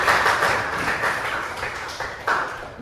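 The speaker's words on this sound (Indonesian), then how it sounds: "Tepuk tangan buat Salsa." A classroom claps for a student named Salsa, a short patter of scattered hand claps from a small group lasting a few seconds, fairly close, with no talk over it.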